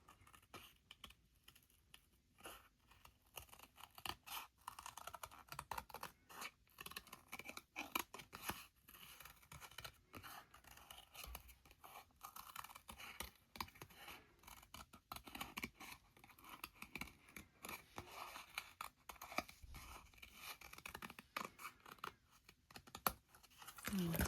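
Scissors snipping around a paper craft piece, a quiet run of small crisp cuts and paper rustles in an irregular rhythm, close and faint, with no talk.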